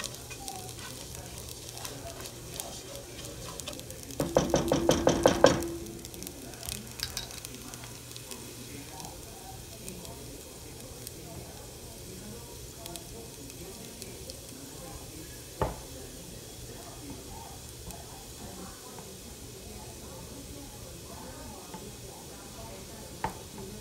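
Rice for Mexican red rice fries in a pan with a soft, steady sizzle, interrupted by a louder burst of stirring and scraping early on and an occasional clink of a utensil.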